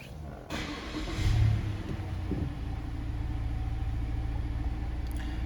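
A 2016 Mazda 6 engine starts with a brief rising surge, then settles into a smooth, low, steady idle heard from nearby.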